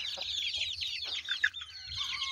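A hen clucks close by, giving a run of soft, throaty clucks and brief higher squawks with uneven rhythm, alone without talk.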